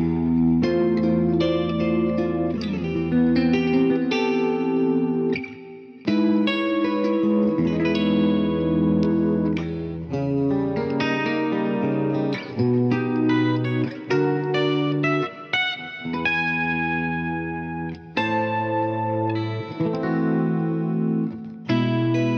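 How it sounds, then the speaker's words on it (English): An electric guitar runs through a Digitech RP1 multi-effects preset with a delay effect, playing distorted chords and single notes with echoing repeats and reverb tails over about twenty seconds, with no talking. "They all sound very 80s, 90s, which is to be expected. It's got a really cool delay effect."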